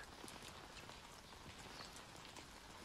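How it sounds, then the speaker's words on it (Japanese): Steady rain falls on a surface, a dense continuous hiss of drops at a fairly even level with no voices. "雨はいろんな雑音を消してくれるから集中したい時にはかえって都合がいいんだ"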